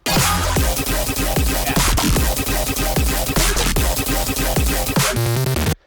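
Dense electronic bass music with a punchy, chopped color bass rhythm layered over a heavy sustained low drop bass, loud and continuous until an abrupt stop.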